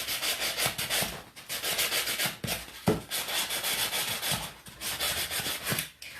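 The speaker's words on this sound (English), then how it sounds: "Who wants to sit here and watch me sand all day?" A large dollar store ornament is sanded quickly by hand, giving steady back-and-forth rubbing strokes that are close and fairly loud, with only brief pauses between passes.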